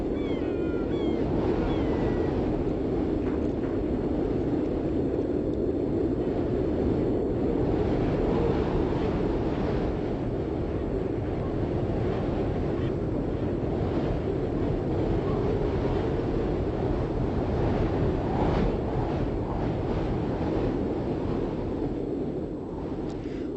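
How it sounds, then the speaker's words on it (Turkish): Strong, continuous Arctic storm wind on Svalbard roaring and buffeting the microphone, loud and unbroken throughout with no voices. "Svalbard'da yine fırtınalar kopuyor."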